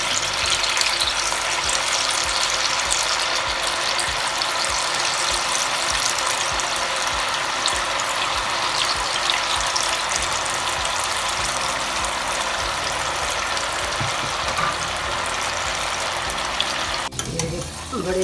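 Small sabudana pakoras made with raw potato fry in hot oil in a kadai, giving a steady, dense sizzle and crackle close up throughout, with a brief clatter near the end.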